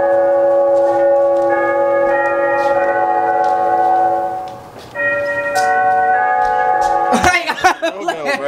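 A doorbell chime rings repeatedly, with sustained ringing tones that restart several times, loud and close, before voices break in at the end.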